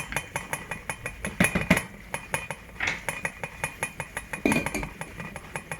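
A spoon scrapes and clinks against a pot of yam and pepper soup with cow meat and croaker fish, rhythmic metallic taps repeating about twice a second, close and clear with no talking.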